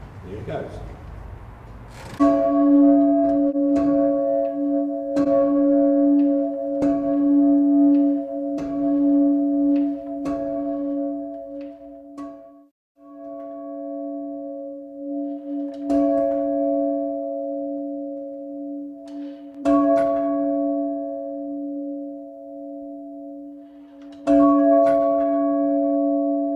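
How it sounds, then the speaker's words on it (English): A large church bell being rung up strikes over and over at an uneven pace, each hit leaving a sustained ringing hum between strokes. "she's going to ring the bell up with its mouth upwards"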